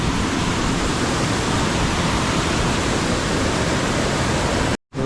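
Flooded Kajali river in a Konkan village rushing with a dense, loud, unbroken roar of water, steady throughout before a sudden brief cut near the end.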